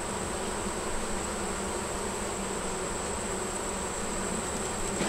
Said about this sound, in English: Got a pretty good amount of bees down here.